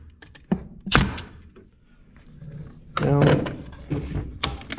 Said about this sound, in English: Then I'll just shoot a couple nails